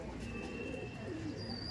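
A racer pigeon, a home-bred youngster now grown, coos softly in a loft among many other pigeons, its low murmur steady and close through the short stretch with no talk.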